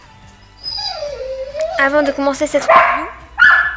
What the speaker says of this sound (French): même si vous allez entendre mon chien crier au loin